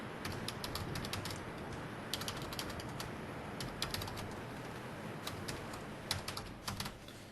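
Fingers type on a computer keyboard in a quiet office setting, producing irregular, close, crisp key clicks in quick runs with brief pauses, alone without voices.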